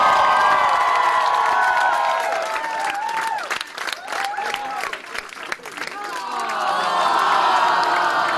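A crowd of young delegates at a Model European Parliament cheers and shouts loudly, with high whoops and clapping swelling and fading across several seconds.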